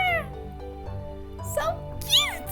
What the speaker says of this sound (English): Well, little Cake, you'd be a good kitty now,